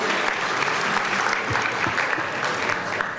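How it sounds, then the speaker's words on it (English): An audience at the 2024 Exemplary Leadership Celebration claps for the event honorees, a sustained dense round of applause with a faint voice briefly audible underneath. "So please give our honorees a hand."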